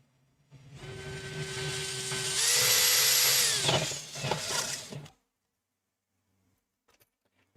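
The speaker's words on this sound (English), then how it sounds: "You can drill a hole bigger," A power drill bores a hole in an enclosure box, whining up to a high pitch for a few seconds before winding down with a rattle, followed by silence and a faint clunk.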